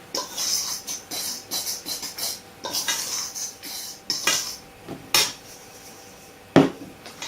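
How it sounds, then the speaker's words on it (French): Cupcake batter beaten in a bowl with a fork or whisk gives quick, uneven scraping and clinking against the bowl, repeated in bursts with a few sharper knocks, close and fairly loud with no talking. "vous allez bien mélanger l'ensemble, alors à l'aide d'une fourchette, sinon à l'aide d'un fouet."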